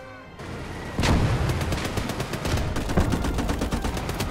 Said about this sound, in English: Somebody's shooting me with like a... like a rifle,